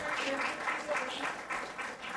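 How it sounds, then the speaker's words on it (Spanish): Applause from the audience at an academic session in May 2026, a steady crowd clapping that runs throughout, fairly distant and moderately loud, with voices murmuring underneath. "para darnos un aplauso"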